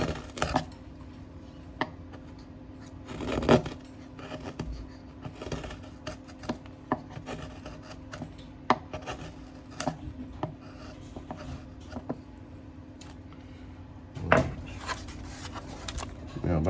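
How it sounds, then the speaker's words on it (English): Hand-carving a timber guitar brace for a live back, with soft scraping and shaving strokes of a blade cutting easily through the wood, sounding as irregular close rubs and taps. "This one here is carving so much easier. It's almost like going through butter."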